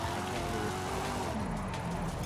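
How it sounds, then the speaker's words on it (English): Ford Mustang engine in Forza Horizon 5, a high, whiny buzzing drone with shifting tonal lines, steady and loud throughout, sounding much like an electric RC car motor. "this Mustang sounds like a brushless RC car"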